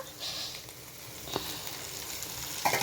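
Alisanthakaya curry frying in oil in a pan, a steady low sizzle running throughout, with a faint stirring scrape near the end; no one speaks.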